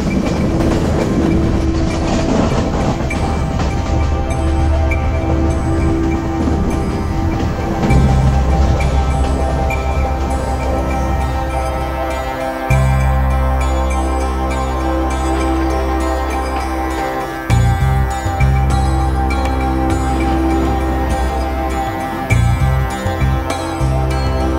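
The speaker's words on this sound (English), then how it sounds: "It's a loud, rickety, rackety train" A loud, rattling Sri Lankan train ride from Kandy to Ella, with constant clattering and rumbling of wheels and cars, steady and close throughout, no voices.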